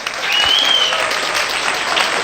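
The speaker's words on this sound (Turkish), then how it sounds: "alkışlayalım." A classroom group claps together in a lively, dense burst of applause that holds steady for a couple of seconds, with a faint whistle-like sound near the start.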